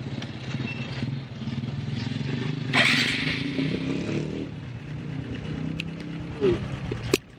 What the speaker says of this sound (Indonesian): Saya hidupkan dulu motornya.